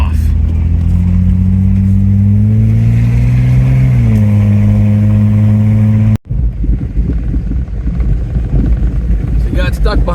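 An off-road rally car's engine revs up and pulls away, its rising drone climbing steadily before an abrupt cut, followed by rougher, closer engine rumble and cabin noise.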